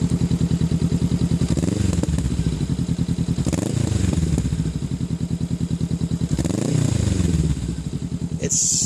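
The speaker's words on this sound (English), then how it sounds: "If I just give it a light little blip on the throttle." A Honda Rebel 500 motorcycle engine idles with a steady deep thump, then the throttle is blipped briefly a couple of times, the revs rising and falling back.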